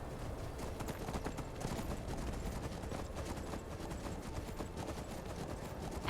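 Horse hooves clip-clop at a steady trot in the Skyrim video game, a quiet, continuous rhythmic patter heard on its own without talk.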